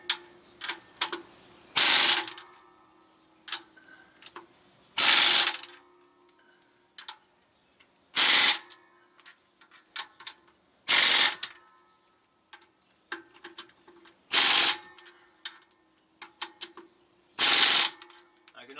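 Impact wrench tightening clutch bolts on a big truck, firing in short loud bursts roughly every three seconds, with fainter ratcheting and clicking between them.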